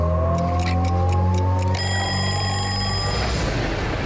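Clock ticking and a ringing alarm bell form a radio station morning jingle, with quick rhythmic ticks giving way to a sustained, bright electronic ring that fades out.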